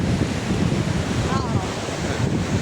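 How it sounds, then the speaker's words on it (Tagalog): Ocean surf churns constantly at San Fabian Beach, Pangasinan, while strong wind buffets the microphone in a dense, rushing roar. "Lalo na't maalon. Tapos masyadong malakas yung hangin."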